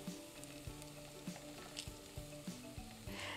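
Tomato paste sizzling in a pan with caramelized onions and garlic, a soft steady frying hiss broken by periodic thumps and scrapes of stirring, heard close but quietly, with no talking.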